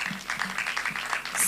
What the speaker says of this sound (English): So a round of applause for our speakers.